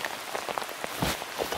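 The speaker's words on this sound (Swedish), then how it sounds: "Få lite liksom ljudskydd av regnet" Rain pours steadily during a summer roe buck hunt, a dense, close patter of drops hitting surfaces with no voices.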